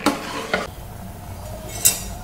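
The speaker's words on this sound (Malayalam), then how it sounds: "എന്നിട്ടിത് നമുക്ക് വേഗമായിട്ട് നല്ലതുപോലെ ഇളക്കി യോജിപ്പിക്കാം." Spices and garam masala are stirred into a chickpea curry in a pan, with a few sharp scrapes and clinks of the spoon against the metal over a faint sizzle.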